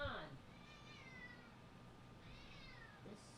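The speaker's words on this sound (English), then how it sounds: "He's sitting there just meowing at me." A house cat meows at close range indoors, a couple of drawn-out calls set against a quiet background.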